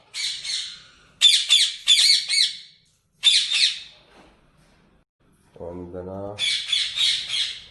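Parrots in an aviary at a talking-bird breeding reserve give loud, harsh squawks in repeated close bursts with short pauses between them, and someone speaks briefly between calls.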